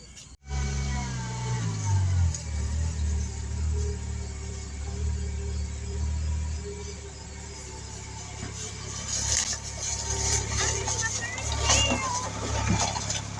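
A 2007 Volkswagen Rabbit reverses slowly, its engine idling and rumbling steadily up close while people talk nearby.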